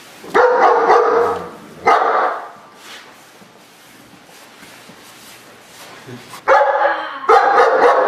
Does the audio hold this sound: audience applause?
no